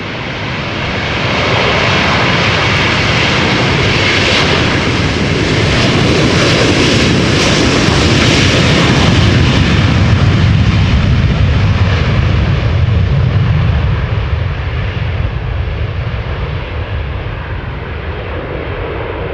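A ten-year-old KLM Airbus A330-300 on Houston departure from Amsterdam Schiphol fills the air with a loud, sustained jet engine roar that swells and rumbles broadly for the whole stretch, easing slightly toward the end, with wind buffeting.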